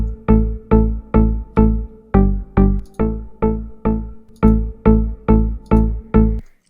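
A synth bass with FL Studio's Soundgoodizer effect, a re-creation of the bass from Mahmut Orhan's 6 Days built in Serum, plays as a dozen punchy, evenly spaced notes that each decay quickly, loud and alone.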